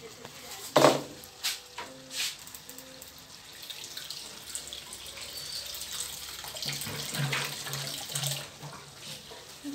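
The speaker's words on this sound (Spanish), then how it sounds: "Vamos a agregarle un poquito de agua." Water pours into a pot of cooking chicken, with splashy bursts and a running, faucet-like stream over a quiet kitchen background, close and moderately loud.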